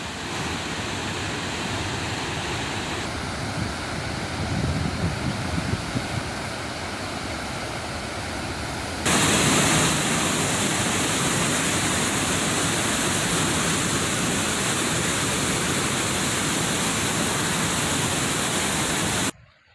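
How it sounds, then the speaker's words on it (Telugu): Floodwater pours through nine opened gates of the Jurala dam in a constant, heavy roar of rushing water. The roar grows louder and fuller partway through and runs unbroken, with no voices. "అధికారులు 9 గేట్లు ఎత్తి నీటిని దిగువకు విడుదల చేస్తున్నారు."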